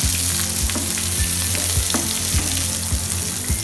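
Sliced onion and green chili sizzle in hot oil for beetroot poriyal, a steady close frying hiss broken by repeated scraping stirs, with no talking.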